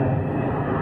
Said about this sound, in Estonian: siis teavad, et lennukid lendavad